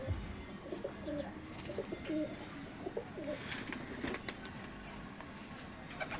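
Pigeons kept by a fancier, including a checker pigeon settled on the ground, coo in low repeated murmurs amid steady outdoor ambience, with faint traffic and other birds in the background.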